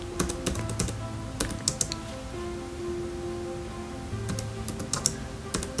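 Typing on a computer keyboard during desktop web page editing: quiet clusters of sharp key clicks in two bursts, separated by a lull of faint background hum.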